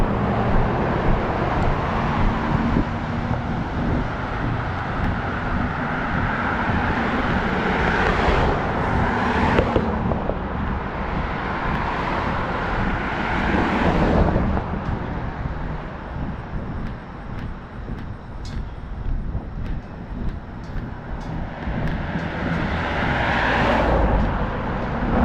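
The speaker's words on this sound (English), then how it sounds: "We will have a little bit of traffic noise" Steady road traffic noise along a walking route in Lewiston, Maine, with cars passing as a continuous loud rumble and wash, swelling a few times as vehicles go by, with no talking.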